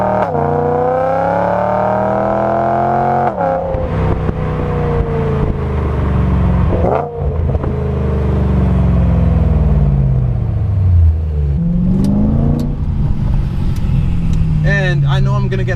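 An E92 BMW M3 engine roars close by, its pitch climbing and then dropping in sharp steps as it downshifts, with loud rumbling throughout.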